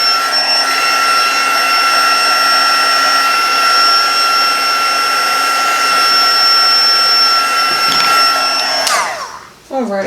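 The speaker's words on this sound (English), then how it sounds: "when you're using the heat tool" An embossing heat tool blows a loud, steady whirring hiss with a constant high whine, running close and unbroken for about nine seconds before cutting off abruptly and winding down.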